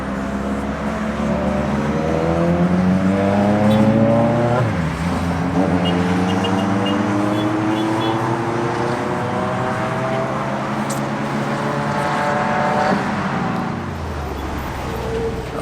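A 2022 Suzuki Hayabusa motorcycle engine revving and accelerating, its pitch climbing through several gear-like sweeps and then dropping, loud and sustained with road noise throughout.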